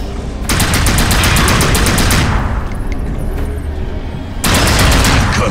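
Rapid automatic gunfire from the video game NecroVision, loud and close, a fast burst for about two seconds, a rumbling lull, then another burst starting near the end.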